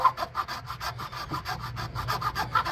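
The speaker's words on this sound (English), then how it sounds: "the hacksaw blade would be probably the easiest for me, and it's soft plastic, so let's see how easy it cuts through there" A hacksaw blade cuts through soft plastic on a Jeep oil filter adapter, with quick, regular back-and-forth rasping strokes close up, about four per second.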